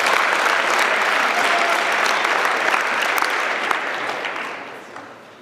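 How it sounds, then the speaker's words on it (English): An audience at a speaker event breaks into steady, full applause, dense clapping holding for several seconds before tapering off at the close. "Yeah, you can clap for that."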